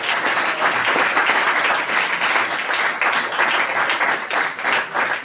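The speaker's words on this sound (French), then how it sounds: "qu'on peut applaudir aussi." Audience applause at a TV-series fan convention, dense steady clapping from a crowd filling the whole stretch, loud and sustained without pause or voices.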